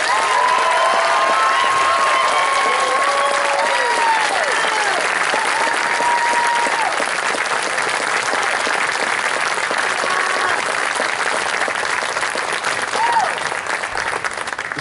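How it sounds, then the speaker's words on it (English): A large audience applauds after a symphonic band concert, sustained and loud clapping with scattered whistles and cheers, holding at a full, even level throughout. "can we give them a huge round of applause?"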